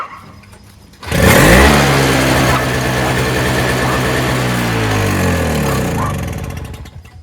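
A Toro CCR2000 Power Curve single-stage snowblower engine is pulled and fires up after a quiet moment, then runs at a loud, steady buzzing idle close by before easing slightly at the end.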